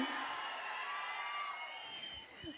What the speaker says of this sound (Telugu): చెప్పేద్దామా ఒక్కసారి గట్టిగా చప్పట్లతో కీరవాణి గారికి.